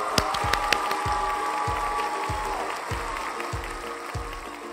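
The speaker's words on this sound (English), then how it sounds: "Please give a big round of applause for my co-presenter," An audience applauds a co-presenter at a talk, a steady wash of clapping held at an even level throughout, with a regular low thumping pulse running beneath it.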